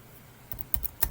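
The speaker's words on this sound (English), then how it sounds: "So we will type" A computer keyboard clicks under quick fingers, a short cluster of sharp taps that starts after a quiet half second and comes in an uneven rhythm, close and alone.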